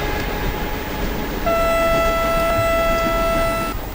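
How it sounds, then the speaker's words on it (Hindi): In the Indian Train Simulator game, the Kutch Superfast Express rumbles past with a loud, steady rolling roar and a sustained horn blast lasting a couple of seconds in the middle. "कच्छ अटबी तो सुपरफास्ट एक्सप्रेस यहाँ पे गाइस हमारी क्रॉस होती हुई"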